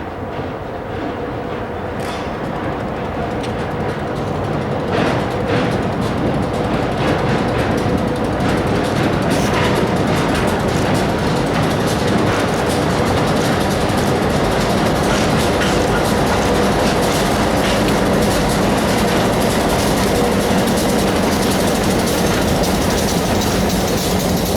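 A Housatonic Railroad freight train led by locomotive 3600 and hauling hoppers rolls past steadily, with a continuous loud rumble, wheel clatter and rhythmic clickety-clack alongside engine drone that holds throughout.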